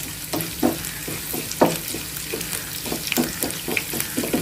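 Raw banana slices frying in a pan with curry leaves and garlic, giving a continuous close sizzle broken by regular stirring scrapes.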